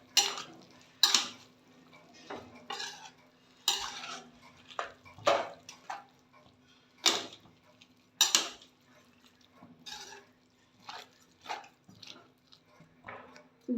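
A spoon stirs spices into cabbage rice in a pot, sending out a series of distinct scraping knocks against the metal at an uneven pace over a low steady hum.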